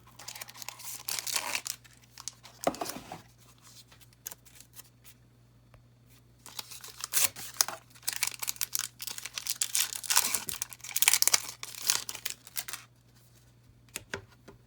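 A Magic the Gathering Rivals of Ixalan booster pack wrapper being torn open, with bursts of close crinkling and tearing foil that come in several bouts separated by brief quiet pauses.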